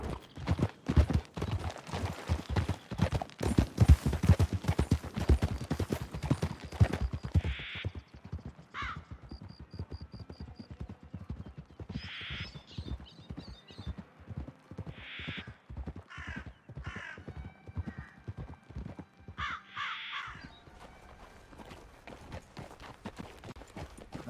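Horse hooves clip-clop steadily in Red Dead Redemption 2, a rapid rhythmic patter of hoofbeats that is loud at first and then eases off, joined by repeated crow caws and no talking.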